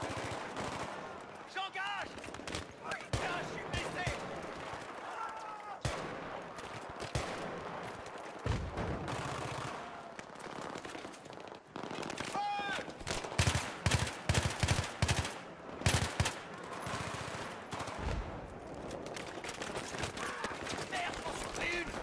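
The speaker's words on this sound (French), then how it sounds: "je prends des balles sur le côté" Battlefield 3 co-op firefight with rapid automatic gunfire and bullet impacts around the player, bursts growing denser and more percussive toward the end, under French voices talking.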